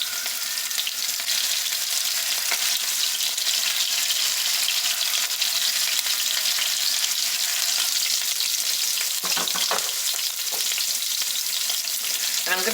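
Potatoes sizzle and crackle steadily in a hot cast iron pan, a dense continuous frying hiss near at hand, with a few brief clinks of a utensil near the end and no talk.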